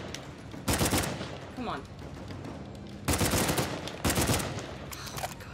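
Three bursts of rapid automatic gunfire in the video game Uncharted 4: A Thief's End, loud and close, separated by short pauses, with someone briefly speaking between them.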